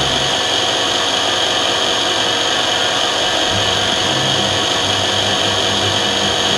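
A drilling machine's milling cutter runs with a loud, steady whirring drone that holds at the same level throughout, with no pauses.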